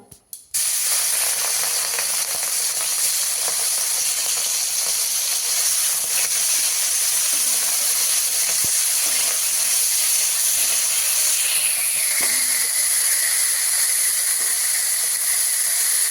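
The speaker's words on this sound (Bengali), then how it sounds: "কড়াইতে সর্ষের তেল দিয়েছি, চিংড়ি মাছগুলো ভেজে নেব।" After a brief clatter, a loud, continuous sizzle of prawns frying in hot mustard oil in a wok hisses steadily throughout, with occasional faint pops and scrapes.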